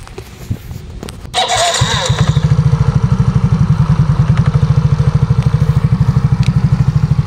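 A scooter with a drive-side transmission problem cranks and starts up, then settles into a steady, loud, rhythmic putter while idling nearby.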